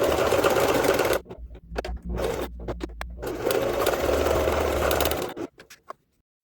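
A sewing machine runs in loud, sustained bursts while stitching a vest lining, stopping briefly between runs and halting near the end, with no talking.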